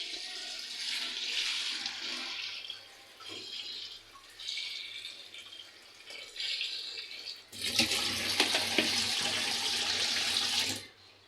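A kitchen tap runs in uneven bursts as cauliflower and eggplant are rinsed under it, the splashing ending in a fuller, louder gush of water near the close.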